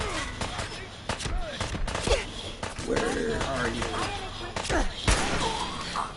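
Gunfire rings out while shooting enemies in Fallout 4. Loud shots and thumps come in irregular bursts, and voices talk over and between them.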